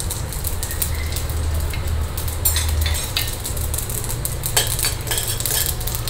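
Urad dal and mustard seeds sizzle in hot oil in a home kitchen pan, a steady crackling fry with metal utensil clinks and scraping stirs on top.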